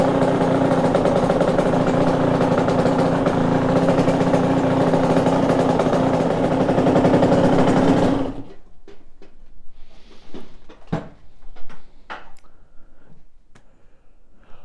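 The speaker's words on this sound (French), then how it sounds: "la moto tourne très bien" A warmed-up motorcycle engine idles loud and close in a steady drone for about eight seconds, then cuts off, leaving scattered clicks and handling noises.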